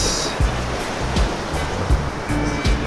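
Ocean surf breaking on the shore at Bison's Beach in Morant Bay, Jamaica, heard as a loud, steady wash of waves with periodic thumps as each wave lands, and no talking.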